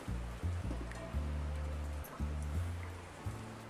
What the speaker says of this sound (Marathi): पाणी टाकू यामध्ये.